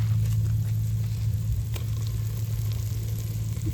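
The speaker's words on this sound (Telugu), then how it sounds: "మళ్ళొకసారి దాన్ని మంచిగా కలుపుకుందాం." Tuna fish pieces fry in a pan and are stirred, giving a steady, even sizzle with a low hum beneath and a few faint scrapes, no talking.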